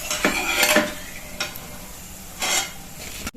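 Urad dal pakoras being fried in oil for kadhi, with spoon stirring and scraping in the pan in short bursts over a low sizzle, close and fairly loud, no voices.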